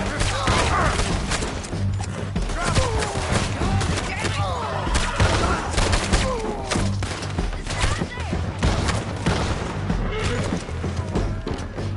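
Gunfire in the video game Red Dead Redemption 2, a dense barrage of shots and thuds running through a continuous loud game soundscape with music, voices shouting over the action.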